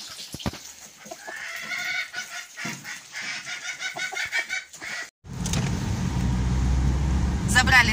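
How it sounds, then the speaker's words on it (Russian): A rooster and a hen cluck in a cardboard box during a car ride, short fowl calls mixed with nearby talking, then a steady vehicle rumble takes over in the second half. "Забрали мы нашу петушка и курочку, сладкую парочку."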